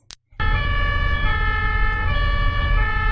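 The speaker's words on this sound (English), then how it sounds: "I love that European siren." A German ambulance siren in the European two-tone style starts abruptly after a short click and blares loud and close, alternating between its two pitches over road noise.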